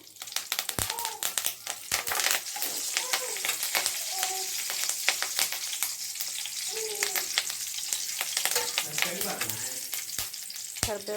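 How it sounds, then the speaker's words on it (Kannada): Loud, crackling sizzle of curry leaves hitting hot tempering oil for sambar, spitting and popping continuously with bursts of sharp crackles throughout. "ಇವಾಗ ಒಗ್ಗರಣೆ ಮಾಡ್ಕೊಳ್ಳೋಣ. ನೋಡಿ ಆಯಿಲ್ ಹಾಕ್ಕೊಂಡಿದ್ದೀನಿ. ಈಗ ಇದಕ್ಕೆ ಸ್ವಲ್ಪ ಕರಿಬೇವು"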